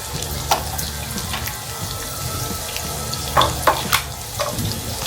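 Alu vadi shallow-frying in a little oil, crisping with a continuous low sizzle close by, a few sharp clinks and scrapes of a spatula over it, and no voices.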